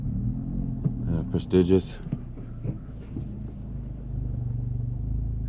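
Stock Honda Civic Type R engine idling at a skid pad, a steady low rumble throughout, with someone speaking briefly over it partway through.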